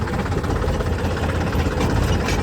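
A tractor engine runs steadily and loudly nearby, a continuous low rumbling drone with no speech.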